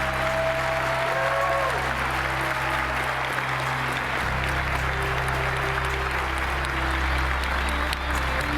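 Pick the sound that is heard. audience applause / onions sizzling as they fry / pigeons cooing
audience applause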